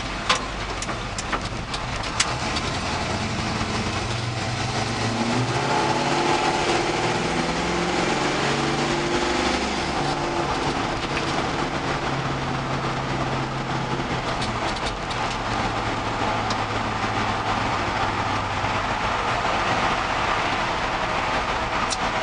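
A 1968 Chevy C10 pickup truck engine drones steadily while driving through Westminster, a continuous rumbling hum with road and wind noise, heard from inside the cab for about twenty seconds without talking.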